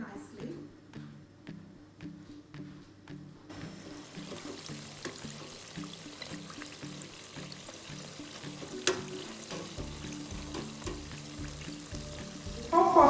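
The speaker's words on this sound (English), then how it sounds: "The puff is bouncing up and down in the oil very nicely." Nigerian puff puff dough fries in hot oil with a soft, steady sizzle and crackle beneath faint background music, growing slightly louder toward the end.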